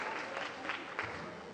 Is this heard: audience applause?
yes